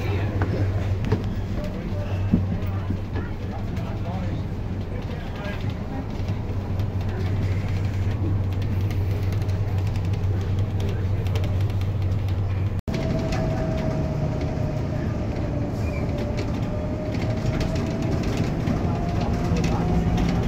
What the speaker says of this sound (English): Now for a ride to Bradley and back on this lovely Bristol RE, Southern National.